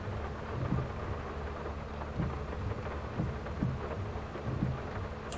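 Rain in a Farming Simulator 22 game pattering on a tractor roof, a steady, faint hiss with low rumbles and occasional soft knocks throughout, no voices.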